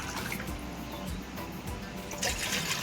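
Water is poured from a cup into a container of finely ground sago paste for papad, a continuous close splashing and trickling flow, steady and fairly loud, swelling slightly toward the end.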